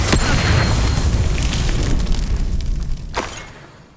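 A loud, roaring burst of magical fire from the Incendio spell in Hogwarts Legacy, a dense rumbling whoosh that holds for about three seconds, then a sharp crackle before it fades out.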